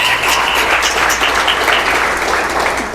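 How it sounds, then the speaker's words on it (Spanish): Church congregation clapping together in a dense, sustained round of applause that fills the room loudly from start to finish, with little talk beneath it. "¿Cuántos pueden aplaudir el nombre de nuestro Señor Jesucristo?"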